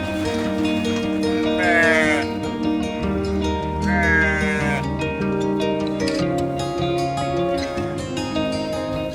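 Garut goats in a farm pen bleat loudly and repeatedly, several overlapping wavering calls close by with livestock ambience throughout.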